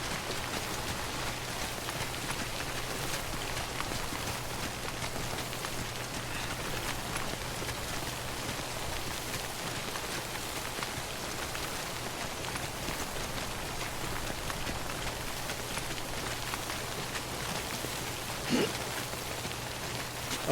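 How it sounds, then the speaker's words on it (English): Heavy rain falls without pause in the video game Death Stranding, a dense, even hiss of drops on surfaces that runs the whole time with no talk and a constant low hum beneath. "It seems the rain has gotten a little heavier."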